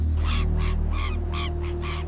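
Lesser flamingos calling at Lake Natron, a run of about six harsh, nasal honks in a steady rhythm over a low constant rumble of the flock, fairly close and clear.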